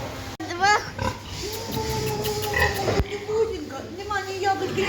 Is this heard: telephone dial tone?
no